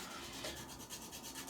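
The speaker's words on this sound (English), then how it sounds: "I'm going to take this same sandpaper and I'm going to round off and soften that point" Super fine finishing sandpaper rubs steadily back and forth, rounding off the point of a soft plastic AR9 magazine part; a quiet, continuous scratchy rasp with no talking.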